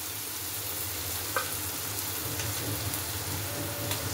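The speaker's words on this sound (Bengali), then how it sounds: "এবার এই আদা রসুনটা ভালো করে ভেজে নেব যতক্ষণ না কাঁচা গন্ধটা চলে যায়।" Ginger-garlic paste fries in hot oil over sautéed onions for a goat meat curry with papaya and potato, giving a steady, close, dense sizzle with faint crackles and no voices.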